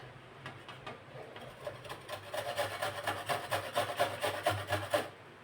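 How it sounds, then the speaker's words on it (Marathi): Amla (Indian gooseberry) rubbed on a fine kitchen grater in a quick, even back-and-forth rhythm of rasping strokes, close and clear, growing slightly louder as it goes. "अशी एक बारीक किसनी घ्यायची किंवा तुम्ही जाड नाही किसू शकता तर इथे हे आवळे आपण किसून घेणार आहोत"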